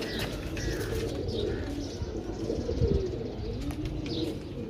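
Low, soft pigeon cooing repeats under a dense background of chirping birds and general ambient noise.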